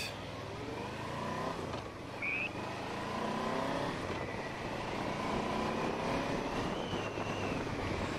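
A Yamaha Vmax 1200 motorcycle engine hums steadily while riding, rising and falling in pitch as it accelerates and shifts, with constant wind rush and no voices.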